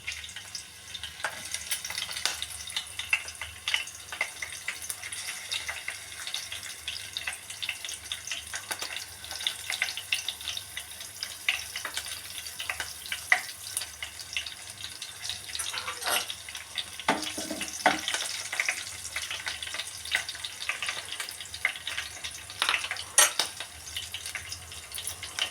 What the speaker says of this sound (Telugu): ఆయిల్లో జీలకర్ర వేసుకోవాలి. జీలకర్ర వేగిపోయింది. తర్వాత పచ్చిమిర్చి వేసుకోవాలి.